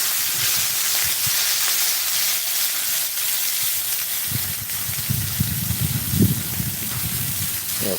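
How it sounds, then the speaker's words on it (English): Food sizzling in olive oil on a griddle, a bright constant hiss that swells midway with crackling spatter. "Add a little bit more olive oil on my griddle"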